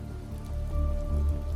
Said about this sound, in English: You walk out into the rain as it pours on you, soaking you through the bone